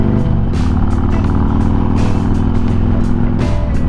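A Harley-Davidson Street Glide Special with a Screamin' Eagle 120R engine is being ridden, and its loud, continuous, rumbling engine note stays close and steady throughout. Brief bursts of wind noise break in now and then.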